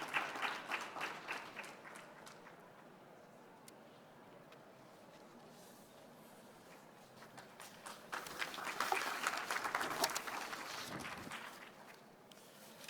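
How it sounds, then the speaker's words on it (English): Scattered audience applause at a COP26 climate-action panel session, swelling at the start and again near the end with broad, noisy clapping, fairly distant and moderate in level. "please give them a round of applause, please, as they come"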